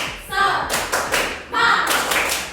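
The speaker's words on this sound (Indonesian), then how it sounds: "Kita akan tepuk semangat." A standing classroom of students performs a rhythmic spirit clap in two loud bursts of quick patterned claps, each finishing with sharp hits, with voices briefly mixed in.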